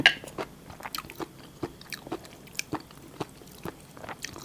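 Someone chewing dry Thai sukiyaki with Chinese cabbage and enoki mushrooms, with close, soft, wet bites and crunchy squishes repeating at an irregular pace.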